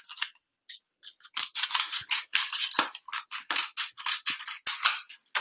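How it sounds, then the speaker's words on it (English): Scissors snip through cardboard in a run of crisp, closely spaced cuts, close and fairly loud, while a small platform and legs are made for a classroom design challenge. "Take my scissors again."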